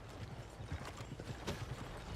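Horse hooves clip-clop at a steady walking rhythm in the Red Dead Redemption 2 video game, soft and continuous beneath faint game ambience, with no speech.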